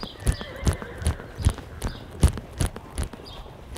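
A horse jogs to the right around a circle during counter-bend riding work, its hooves landing in a steady, even clip-clop rhythm of about nine close, distinct beats with no talking.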